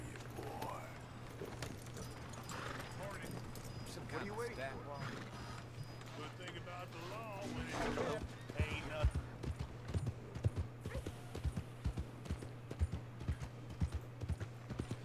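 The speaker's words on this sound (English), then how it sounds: "All right, so let's call our horse." Horse hooves clip-clop in Red Dead Redemption 2, a steady run of sharp, fairly close beats that grows more distinct in the second half, with game voices talking over the first part and a low constant hum underneath.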